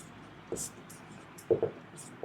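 A pen writing out a math solution, faint scratchy strokes in short bursts under a quiet room hum, with a couple of louder taps near the middle.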